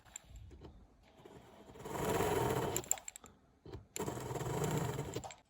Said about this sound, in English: I am carefully phasing out seat for the center diamond, adjusting the seat with a hard burr.